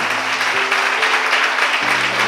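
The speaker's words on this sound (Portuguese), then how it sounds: "Pode aplaudir bem forte." Loud, dense audience applause at a church testimony event, sustained and even, with a steady low musical tone sounding beneath the clapping.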